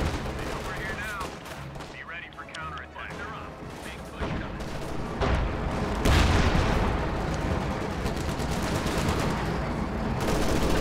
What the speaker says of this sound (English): That airplane is still strafing.